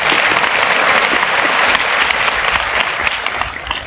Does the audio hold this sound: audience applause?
yes